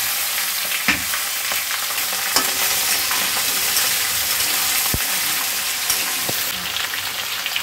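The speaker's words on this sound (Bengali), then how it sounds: "এবার আমি এটা ছেড়ে দিচ্ছি কড়াতে।" Ingredients hit hot oil in a wok and fry with a loud, steady sizzle and occasional crackles and pops while a Bengali curry of shola kochu, potato and prawns is cooked.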